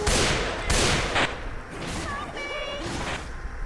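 Rapid gunfire in the video game Left 4 Dead 2, with sharp bursts and thuds, layered under excited talking and game sound effects.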